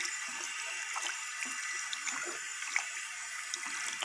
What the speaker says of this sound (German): dass ihr den Schmutzwassertank einfach ein bisschen mit klarem Wasser ausspült